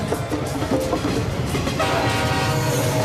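A train rolls past a local saloon, its wheels clattering steadily up close while a loud, sustained horn blast rises over the rumble in the second half.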